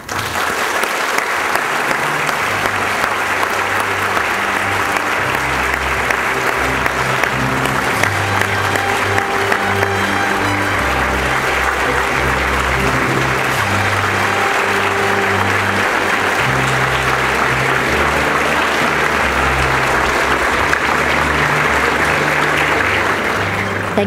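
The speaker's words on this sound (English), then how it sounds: "I'd like to invite a warm round of applause and as we welcome Her Excellency Ms. Yinwat" A large opening-ceremony audience applauds steadily and loudly, a dense sustained wash of clapping that continues without a break.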